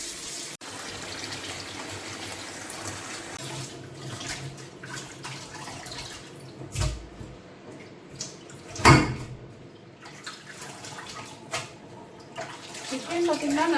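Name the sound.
washing chicken under running tap water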